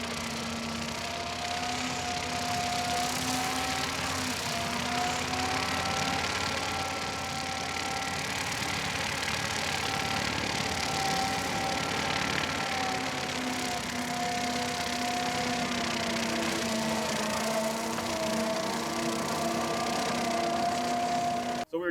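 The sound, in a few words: rotary brush mower on skid steer loader mowing grass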